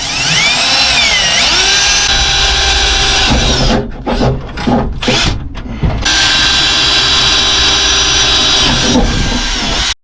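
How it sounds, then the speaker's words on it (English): A power drill whines loudly and steadily, drilling holes in metal, briefly chattering and stuttering partway through as it bites in, then runs on smoothly. "Now I'm just going to drill these side holes."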